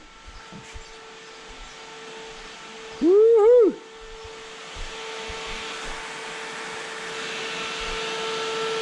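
A car's air conditioning fan, just switched on after a repair, gives a steady, even whirring drone throughout, with a person briefly cheering over it partway through.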